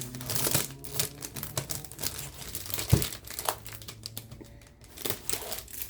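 Plastic packaging around a cutting mat being torn open up close, a busy run of crinkling and crackling with sharp snaps and rustles in uneven bursts.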